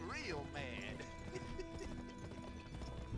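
A horse whinnies loudly at the start, then hooves clip-clop quickly in a video game, with a person's voice talking over it.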